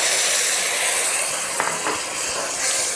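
Soy sauce, rice wine and sugar come to a boil in a wok over softened garlic for a stir-fried crab dish, giving a steady, close, bright hiss and sizzle with faint bubbling throughout.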